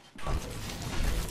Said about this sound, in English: Reloading. Reloading. Reloading.